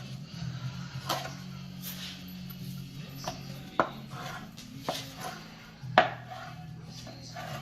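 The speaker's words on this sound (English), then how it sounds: "I actually have this knife I like to use on the meat. Works a lot better, and you just cut it up into little strips like this." A Cutco butcher knife slices beef into strips on a cutting board, giving a handful of irregular, close knocks and scrapes against a low steady hum of kitchen background.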